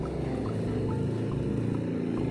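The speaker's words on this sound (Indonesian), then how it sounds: "maaf kalau mungkin suara bising-bising motor" Steady, loud engine drone of motorbikes passing through a busy village during the Lebaran homecoming, a continuous rumbling wash of traffic noise with no speech.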